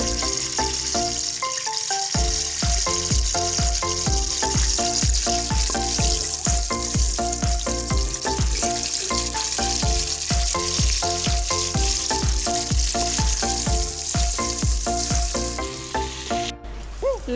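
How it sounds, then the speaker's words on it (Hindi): Garlic sizzling and frying in hot ghee in a pan, a loud steady crackle running throughout with the occasional stir, no talking. "घी को अच्छी तरह गरम करने के बाद इसमें लहसुन शामिल करेंगे।"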